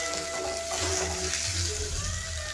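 Potato pieces frying in oil with salt give a steady, close sizzle that holds evenly throughout, with no voices over it.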